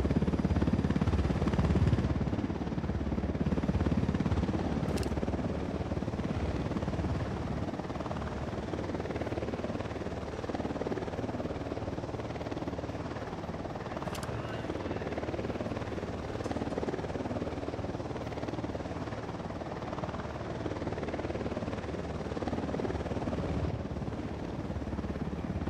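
A helicopter in the video game Ghost Recon Wildlands holds a continuous low rotor rumble throughout, moderately loud and steady, with no voices.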